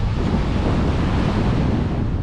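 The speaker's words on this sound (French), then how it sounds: "on a pas mal de vent là" Strong wind buffets the microphone at a port harbour, making a loud, constant broadband roar with no pauses. Waves may be mixed into it.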